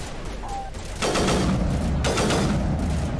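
Rapid gunfire from a Mass Effect 1 firefight starts after a quieter lead-in and then rattles on loud and dense, with sustained overlapping bursts near at hand.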